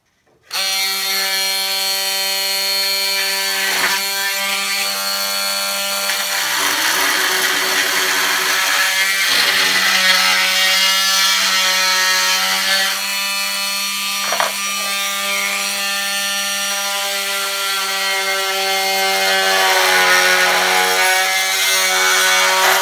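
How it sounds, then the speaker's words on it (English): An oscillating multi-tool cuts through a wooden fish measuring board, giving a loud, steady, high-pitched buzzing drone that carries on for over twenty seconds with slight shifts as the blade bites into the wood. "I will have to get my oscillating tool again and cut that off"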